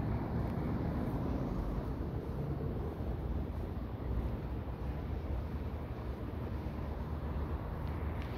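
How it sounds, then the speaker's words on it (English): A large industrial blower at an industrial history museum runs continuously, a dense, steady broadband roar with low rumble that stays constant throughout, with no talk. "Big blower."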